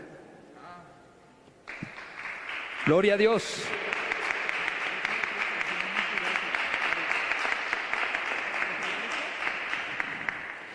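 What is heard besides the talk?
congregation applause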